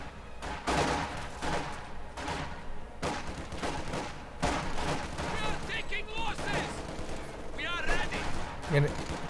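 MG42 machine gun fire in Company of Heroes 2, with rapid bursts and crackling battle gunfire recurring throughout, layered with explosions and game effects while a commentator talks over it.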